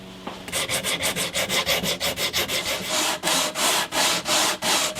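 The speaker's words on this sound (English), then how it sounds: "to level it down to the fretboard I'm going to have to use some coarse sandpaper" Rapid, rhythmic scraping of coarse sandpaper on a wooden guitar neck, leveling it to the fretboard with a sanding block, steady back-and-forth strokes close up, with no voices.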